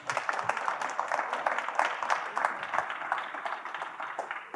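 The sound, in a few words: audience applause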